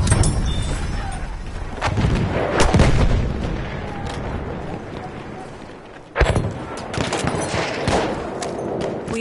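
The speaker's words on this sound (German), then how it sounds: "Ein Maschinengewehr!" Machine gun fire in the World War I shooter Battlefield 1, with bursts and booms of battle layered over rumbling explosions, heavy and continuous with a sharp renewed surge partway through.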